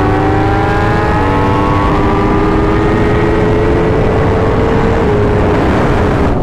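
Yamaha R1 and BMW S1000RR sport motorcycles accelerating hard in third gear, a loud sustained engine whine climbing steadily in pitch for several seconds, close and continuous.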